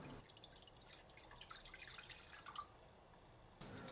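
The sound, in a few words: water being poured into a cooking pot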